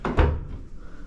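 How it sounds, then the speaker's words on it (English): A trap door bangs shut, two quick close wooden knocks followed by a short thudding rumble, loud and near. "Trap door. Oh, trap door."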